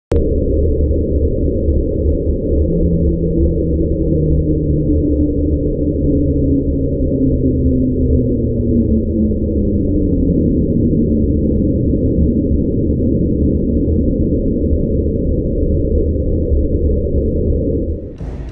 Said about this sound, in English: This sound was recorded using an autonomous hydrophone in the Pacific.